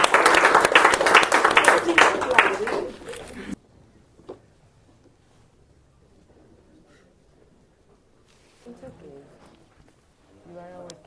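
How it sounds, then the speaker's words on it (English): Brief loud round of clapping from the audience at a parliamentary gathering, lasting a few seconds before cutting to near silence, followed by a few faint voices. "Let's give it a round of applause."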